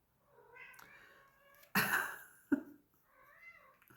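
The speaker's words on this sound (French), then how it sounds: "C'est mon chat." A cat meows several times nearby, soft drawn-out cries broken by a sudden loud burst of noise and a sharp thump in the middle.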